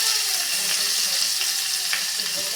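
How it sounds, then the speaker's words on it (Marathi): Finely chopped onion sautés in hot oil with asafoetida and curry leaves, giving a close, steady, bright sizzle with light crackles throughout and no talking. "मस्त तर हे छानपैकी कांदा थोडासा आपण परतवून घेऊया"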